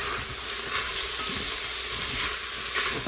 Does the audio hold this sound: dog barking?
no